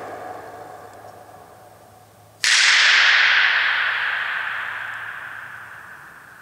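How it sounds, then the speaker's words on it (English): A single sharp slap of two wood pieces clapped together in a church fellowship hall gymnasium, followed by a long bright reverberant tail lasting several seconds. "Put the two pieces of wood together so you can hear the echo time."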